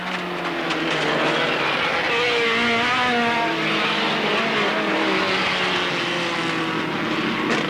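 A little Mini racing at Alwalton Raceway in 1983, boot lip flapping, climbs onto the start straight with a steady, loud engine drone and shifting pitch that carries throughout without a break.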